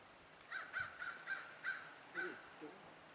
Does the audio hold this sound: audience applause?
no